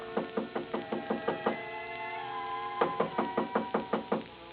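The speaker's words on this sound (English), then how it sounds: "I had just put down the phone when someone knocked on the door." A radio drama door-knock effect: a crisp series of about seven quick knocks on a wooden door, a brief pause, then another run of rapid knocks, close and dry with no voices.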